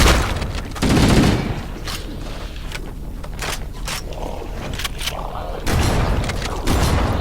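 A grenade explosion in the Halo CE video game: a loud boom in the middle of a dense burst of gunfire and mechanical combat effects, with repeated sharp shots over several seconds.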